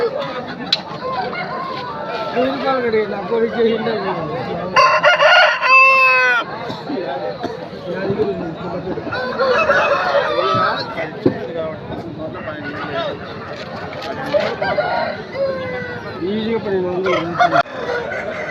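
A Gajukakira breed rooster, about nine to ten months old, crows at the busy Peeleru village market, its drawn-out call rising over steady crowd chatter and clucking from other fowl, with voices talking throughout.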